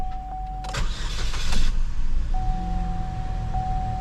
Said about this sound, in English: Let's try to crank it up again.